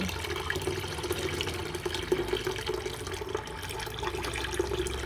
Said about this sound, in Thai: ทีนี้เราก็เทเอาแต่น้ำค่ะ